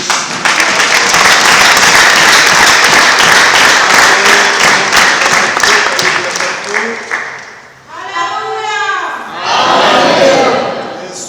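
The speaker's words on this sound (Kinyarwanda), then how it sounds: "amashyi." Church congregation breaks into loud applause and cheering, a dense wash of clapping and shouts that fills most of the stretch, dips briefly, then swells again with voices rising over it.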